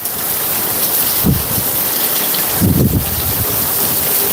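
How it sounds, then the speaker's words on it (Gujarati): Heavy rain pours steadily in rural Saurashtra, a dense continuous roar of downpour with two low rumbling swells like distant thunder. "બહુ મસ્તીનો વરસાદ વરસી રહ્યો છે"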